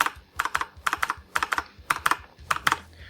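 Keys on a Tt eSport Poseidon ZX keyboard, including caps lock, are pressed in a quick series of about ten crisp, close clicks, mostly in pairs. The room is otherwise quiet.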